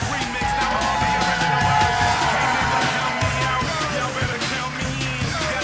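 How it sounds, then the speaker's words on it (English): Crowd at a Philadelphia Freedom versus DC Inferno 2025 NSL match cheering and whooping steadily for the home team, loud and continuous with shouts rising through the noise. "And a bigger round of applause for the home favorite,"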